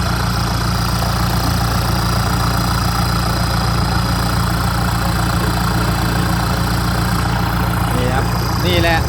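Kubota M6240SUH tractor with a modified exhaust idling loudly and steadily, a deep rhythmic low rumble filling the whole stretch, with a faint voice briefly under it near the end.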